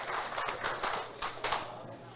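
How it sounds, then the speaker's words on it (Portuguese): Brief, faint clapping from a small group of workers at an on-site union breakfast, a few seconds of scattered claps heard from a distance. "eu quero uma salva de palmas para o presidente aqui"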